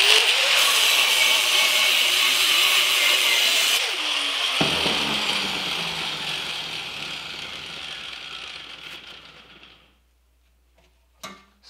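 A 4.5-inch angle grinder cutting 304 stainless steel whines loudly for a few seconds, then the motor slowly spins down to silence, with a couple of faint clicks at the end.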